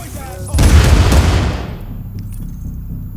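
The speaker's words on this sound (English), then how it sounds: "And the shotgun for the face. This is the shotgun." A single loud shotgun blast in The Division booms close up and rings out, then fades into a low rumbling tail with faint background game noise.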